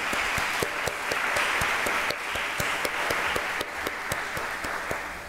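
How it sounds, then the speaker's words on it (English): An audience at a school board candidates forum in Cherry Hill applauds the candidates: steady, sustained clapping with sharp individual claps standing out, loud and close, with no talk over it. "Let's give the candidates a round of applause."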